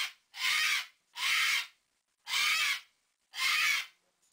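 An umbrella cockatoo gives four loud, harsh, raspy screeches, evenly spaced with short silences between, close to the listener.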